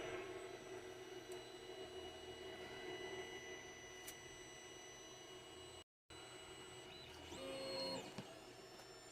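A Sovol SV01 3D printer runs steadily, giving a continuous hum and whine with stepper-motor tones, close and even, and rising a little near the end.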